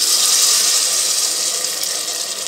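Washed basmati rice and water are poured into a cooking pot, giving a steady, close, hissing wash of water that runs continuously for a couple of seconds with no speech.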